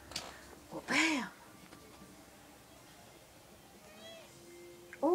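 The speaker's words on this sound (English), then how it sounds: "Oh, you meowed! You never meow!" A pet cat gives one clear, close meow indoors, followed by a fainter mew a few seconds later in a quiet room.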